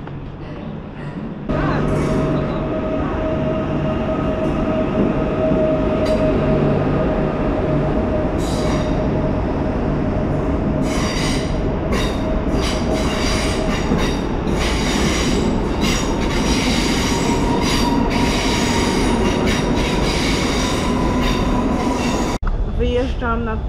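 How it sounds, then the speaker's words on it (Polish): A train rolls into Warszawa Centralna station with a steady rumble, metallic wheel squeals and clacking rising over the noise of a large, echoing hall. "gdzie pociąg wjeżdża"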